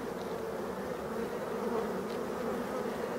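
A steady, dense hum of honey bees fills the air around an opened, previously abandoned hive, a continuous close buzzing with no voices.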